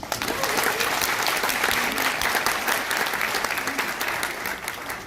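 Sustained applause from a crowd, loud and dense clapping that holds steady for several seconds before tapering slightly.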